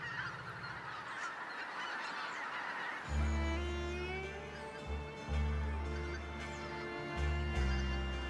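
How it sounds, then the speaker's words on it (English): A large flock of geese honks on the Danube, the calls rising loud and dense after a stretch of rushing water, with many overlapping voices repeating in a busy chorus. "Thousands of geese gather midstream."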